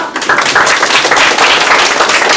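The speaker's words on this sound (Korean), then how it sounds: "박수" A lecture audience applauds at a special talk by a professional agricultural manager, a dense, steady wash of many hands clapping that carries on for about two seconds before cutting off.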